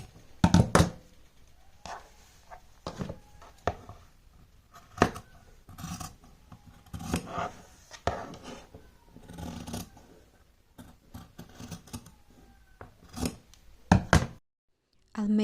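Scissors cut through pants fabric in a sewing room, sharp close snips and crunching cuts in irregular bursts, with a few dull knocks from handling on a table.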